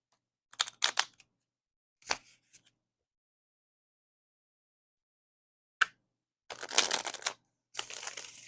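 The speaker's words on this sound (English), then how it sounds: "It's the way I'm shuffling my fucking cards." Tarot cards are shuffled close by in quiet surroundings, with several brief papery riffles and flicks separated by silence and a longer burst near the end.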